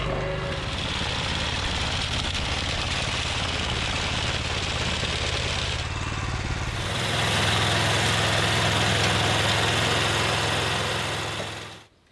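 A BCS two-wheel walk-behind tractor engine idles steadily up close, a continuous mechanical hum that shifts to a fuller, louder tone partway through before cutting off at the end, with no talk.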